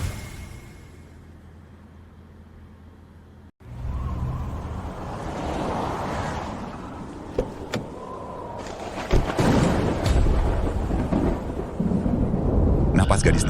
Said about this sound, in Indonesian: Di tengah badai salju ini kenapa ada guntur dan kilat?